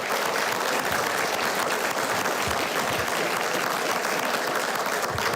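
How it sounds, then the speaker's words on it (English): A room of attendees at a Kern County Board of Supervisors meeting claps steadily and fairly loudly for about five seconds, a dense, even patter with no talking over it. "So if you can give them a round of applause,"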